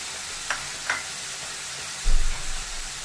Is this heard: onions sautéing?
yes